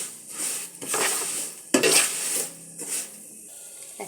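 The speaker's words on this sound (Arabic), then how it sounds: "هنا أنا طبعا داحم الشعرية هنا" Toasted vermicelli is stirred in a cooking pot while making biryani rice, producing several scraping sweeps of a utensil against the pot over a soft sizzle, close up and without talking.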